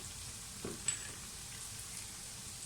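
Roasted crushed coriander and cumin hit frying onions in a pan, giving a soft, steady sizzle with a brief crackle as the spices land, heard alone and fairly quiet.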